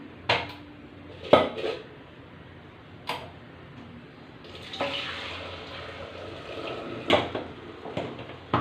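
Dishes clink and clatter in a sink with intermittent bursts of running water, sharp scattered knocks of pots and utensils, no voices.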